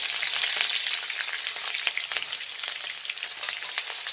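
Large-cut chopped onion, added with minced garlic, fries in a hot pan for home-style vegetables, giving a loud, continuous close-up sizzle with crackling pops throughout and no voices.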